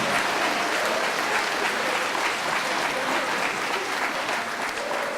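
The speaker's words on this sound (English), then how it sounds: "So how about another round of applause for all 8th graders, all the children involved" A school audience applauds the 8th graders at a spring concert, a dense, steady wash of clapping from a large crowd that holds evenly for the whole stretch.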